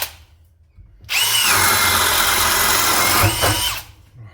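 A Bosch 18V cordless drill with a 1.25-inch spade bit bores through 2-inch-thick 2x4 wood: a brief quiet lead-in, then a loud, steady, close high-pitched whine for about three seconds before it cuts off.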